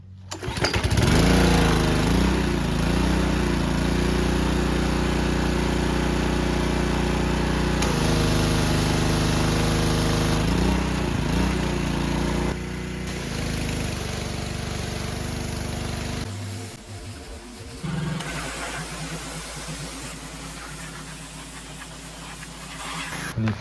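A Ryobi 3100 PSI gas pressure washer with a Honda engine is pull-started and runs: a loud, close small-engine chug that rises and settles into a steady idle-like drone, with shifts in load partway through.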